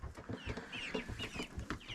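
Chickens in a small hen house cluck softly and repeatedly at close range, short overlapping calls forming a busy, quiet chatter with no talking.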